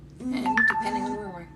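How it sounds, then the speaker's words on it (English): A mobile phone text alert chimes briefly, two short electronic tones ringing out clearly over a person who keeps talking close by. "Sorry, that was my phone."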